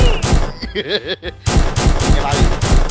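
Rapid bursts of loud gunfire ring out during a jewellery store robbery in the video game One Armed Robber, with overlapping volleys crackling up close and a brief lull midway.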